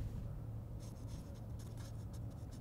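A pen scratches across paper during a children's drawing activity in a studio program, soft intermittent strokes over a low steady hum, with no talk.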